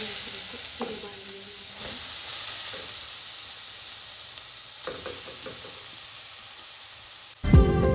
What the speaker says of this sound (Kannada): ತುರಿದಿರೋ ಕ್ಯಾರೆಟ್ನ ಹಾಕ್ಕೊಂಡು ಫ್ರೈ ಮಾಡ್ಕೊಬೇಕು.